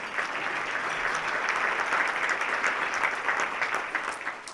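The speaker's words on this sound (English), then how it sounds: "so I think we should applaud" A county address audience breaks into sustained, dense applause, many hands clapping at a steady level before tapering slightly at the end, with no talk over it.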